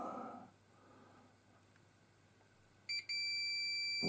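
Multimeter continuity beep while testing a soldered wire joint during restoration of an H.M.V 1421 radio: a steady electronic tone cuts in near the end, briefly breaks, then holds alone and moderately loud.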